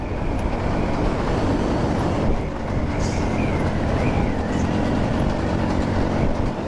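A train running toward Patul in Natore gives a loud, steady rumble with rail clatter heard close up, continuous throughout with no talk.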